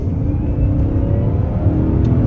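A 2002 BMW 540 M Sport engine revs hard and accelerates, a loud, steady low rumble with rising tone throughout, close by.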